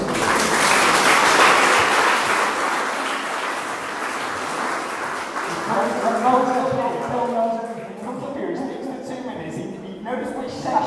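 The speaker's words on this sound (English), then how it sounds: "he gets a round of applause" A round of applause from the audience at a community meeting opposing a quarry, broad clapping loud at first and tapering off, with voices and murmuring rising over it toward the end.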